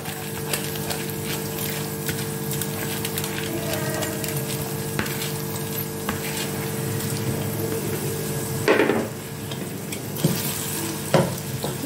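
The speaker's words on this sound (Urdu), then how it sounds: "بس ہلکا سا ان کو ہم تھوڑا سا سوٹے کریں گے، تھوڑا سا فرائی کریں گے۔" Rice frying in oil with whole cloves for sweet zarda rice, stirred lightly: a steady close sizzle with occasional soft spoon scrapes and a couple of louder stirring bursts near the end.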